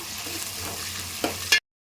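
Small onions, curry leaves, cumin and fennel sizzle in hot oil for a fish curry, with a spatula scraping and stirring the pan up close in a short, steady burst.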